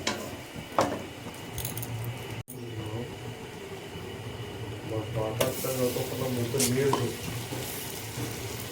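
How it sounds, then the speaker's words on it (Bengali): Turmeric-and-salt-coated prawns fry in hot oil and butter, giving a steady close sizzle with stirring clatter and a sharp utensil knock partway, the frying swelling louder toward the end. "সাদা তেল আর বাটার গরম করে নিয়ে এর মধ্যে যে নুন হলুদ দিয়ে মেখে রাখা চিংড়ি মাছটা আছে এটা একটুখানি ভেজে নেব"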